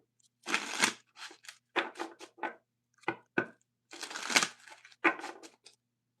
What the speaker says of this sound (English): James, did you want me to pull any cards for you?